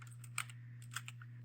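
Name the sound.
typing CMD on a computer keyboard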